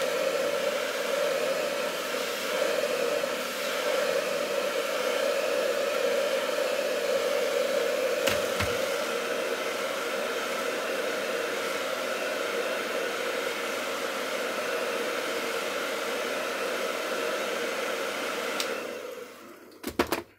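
A heat gun or hair dryer blows steadily while softening the adhesive to remove an iPhone battery. The whir is constant and close for most of the clip, then cuts off with a few handling knocks at the end.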